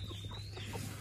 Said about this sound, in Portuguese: Aqui dentro tem uma galinha, gente, que ela não quer sair.